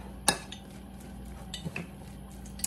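Cabbage fritter batter mixed in a bowl, quiet scattered clinks and taps of a utensil against the bowl over a faint background, with no voices.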